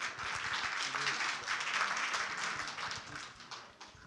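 An audience at the Brownsville Hurricane Awareness Fair applauds Leo the lineman from PUB, a steady wash of many hands clapping that holds for about three seconds before fading slightly.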